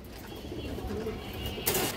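Old, large-bodied domestic pigeons at a sale coo softly against a constant noisy background, their low calls blurred and faint, ending with a brief rustling burst.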